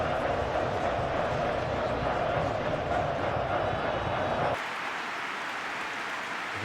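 Dense, steady roar of a capacity stadium crowd on a clear evening at a simulated Spain vs Belgium World Cup match in eFootball PES 2021, loud and continuous, then dropping abruptly to a quieter crowd murmur near the end.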